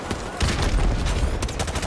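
Dense rapid gunfire in the video game Call of Duty: Modern Warfare Remastered during a night-vision mission, a loud sustained fusillade of overlapping shots after a brief pause.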